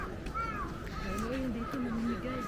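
Crows cawing among a crowd in Nara Park, Japan, a few harsh calls rising and falling over steady background chatter and ambient noise.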